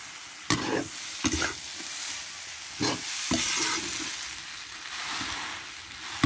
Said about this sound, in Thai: ใส่ข้าวลงไปผัดนะคะ